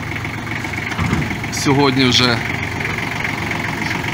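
A used Japanese Kubota L1-195 compact tractor engine idles with a steady mid-pitched drone throughout while someone speaks over it.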